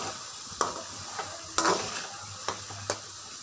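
Mutton pieces frying in oil in a pan for chutney, a steady low sizzle broken by a few sharp scrapes and clinks as a utensil stirs, close by with no talking.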